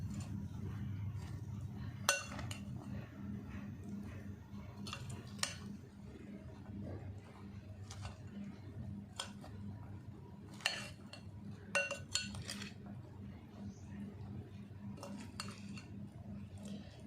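A spoon mixes chana chaat with sweet chutney in a bowl, giving soft irregular clinks and taps against the dish over a low background hum, quiet and close, with no speech.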